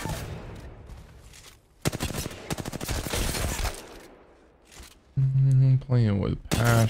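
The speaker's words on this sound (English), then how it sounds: "Gun." Rapid bursts of video game gunfire rattle out in short volleys, with a voice talking loudly over the end.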